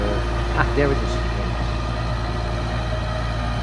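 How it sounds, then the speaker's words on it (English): The hydraulic pump of a hydrogen electric tractor runs with a steady, low mechanical hum and faint tonal whine throughout, while someone speaks briefly over it early on. "what you are hearing is the hydraulic pump"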